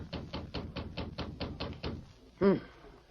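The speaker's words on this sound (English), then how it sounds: "She was interrupted by a knock at the door." A single sharp knock at a door lands near the end, following a run of regular, evenly spaced tapping sounds.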